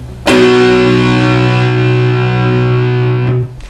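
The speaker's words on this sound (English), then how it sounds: "I've got the distortion on my amp" A loud distorted electric guitar chord rings out through an amp, sustaining evenly for about three seconds before being cut off.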